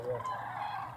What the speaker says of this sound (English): It's geese, isn't it?